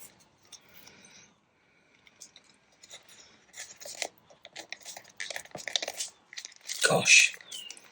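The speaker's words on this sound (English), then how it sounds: "this is really crinkling this up now" Paper being crinkled and crumpled while working on bee-themed ephemera, with soft close rustles building to a louder crunch near the end, alone without talk.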